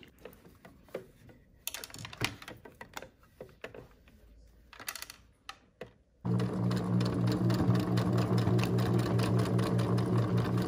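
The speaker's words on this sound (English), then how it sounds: "we are also going to use the straight stitch as a guide for your overcast finishing seam" A sewing machine running an overcast finishing stitch, first a few scattered clicks and handling noises, then a steady loud mechanical whirr that runs continuously to the end.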